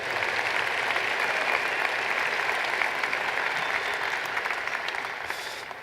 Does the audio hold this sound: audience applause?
yes